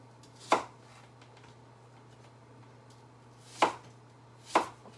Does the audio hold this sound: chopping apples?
yes